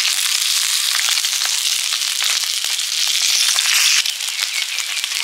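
Fish roe sizzling and frying in a hot wok, a steady dense crackle and hiss with scattered sharp pops, close and fairly loud throughout without any talk.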